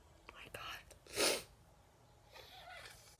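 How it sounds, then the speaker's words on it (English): A single sharp sneeze during a sneezing attack bursts out between quiet whispered speech and breathing, loud and close. "I just sneezed like a minute ago or 30 seconds ago"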